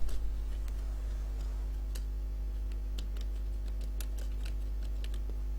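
Light clicking keystrokes from a computer keyboard being typed on, irregular taps over a steady low hum, with no talking.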